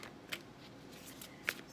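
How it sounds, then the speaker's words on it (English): Tarot cards being shuffled by hand in a quick shuffle, close and fairly quiet, with two brief sharp riffles over a soft background hiss and no talk. "What I will do is do another quick shuffle and then lay the piles out."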